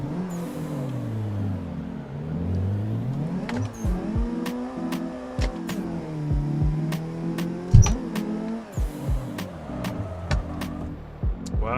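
Car engine in a drift racing sim revving hard through upshifts and downshifts, with rising and falling engine pitch, abrupt drops at each gear change, clutch kicks and brief tire chirps, loud and continuous.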